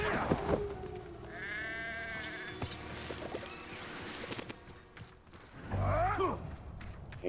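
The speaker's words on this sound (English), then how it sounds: "Then I turned you into a sheep." A sheep bleats in the video game Hogwarts Legacy after a spell transforms someone. Wavering bleats come at the start and again near the end, mixed with game sounds and clopping steps.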